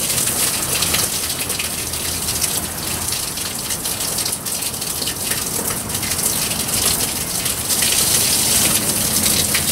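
Artesian well water pours steadily from a spout near a river in Madison, Wisconsin, a continuous close splashing gush with no pauses and no voices.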